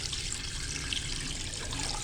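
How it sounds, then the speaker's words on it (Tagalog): Water pours from a pitcher into a pot of meat while dinuguan is being cooked, making a faint, steady trickling splash for about two seconds. "isang pitchel na tubig. Lalagyan natin siya"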